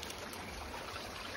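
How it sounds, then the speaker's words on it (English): Cold water running and trickling off a big old rock beside a river on a hot day, a steady, soft, continuous wash with no breaks, fairly quiet and close. "Nice running water off this big old rock."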